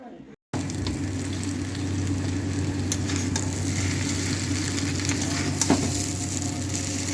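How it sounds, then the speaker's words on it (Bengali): Egg chowmein with fried eggs being stirred in a pan gives a steady frying sizzle with occasional scraping stirs, close and continuous, with no talk. "আগেই ভেজে রাখা ডিমগুলো আমি এরপরে চাউমিনে দিয়ে দিলাম তারপরে নাড়াচাড়া"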